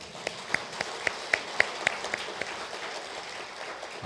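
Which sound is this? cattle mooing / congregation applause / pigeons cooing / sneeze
congregation applause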